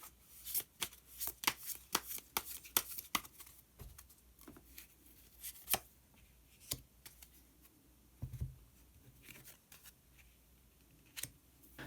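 Tarot cards are shuffled and drawn, producing a run of sharp, close riffling snaps and flicks with short gaps, quiet overall.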